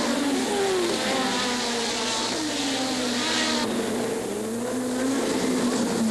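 Formula 1 cars from the 1986 season race past as one driver slips out of another's slipstream to overtake, a loud continuous high engine whine with shifting pitch sweeps over steady crowd-like roar.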